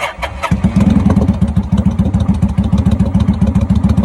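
A wrecked Kawasaki motorcycle, hooked to jumper cables with the clutch in, cranks briefly and then fires up, settling into a loud, close, rhythmic idle with steady pulsing exhaust beats.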